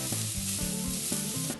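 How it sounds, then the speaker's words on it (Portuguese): Chopped onion sautés in hot olive oil in a pan over high heat, a steady, soft sizzle under faint low clatter of stirring, fairly quiet and continuous. "Assim que estiver quente, coloque meia cebola picada e refogue um pouco."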